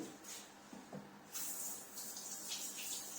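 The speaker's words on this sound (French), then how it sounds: "il me faut de l'eau bouillante. Donc là, je vais aller directement me la chercher au robinet." Boiling water running from a kitchen tap into a pitcher, a steady broadband hiss that starts abruptly partway through and continues close and moderately loud, with no talking.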